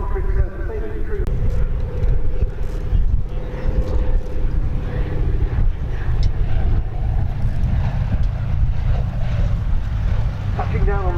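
A Commonwealth CA-13 Boomerang touches down on grass in a strong crosswind at the Duxford Battle of Britain Airshow 2025, giving a steady, loud propeller-engine roar blended with heavy wind buffeting on the microphone throughout.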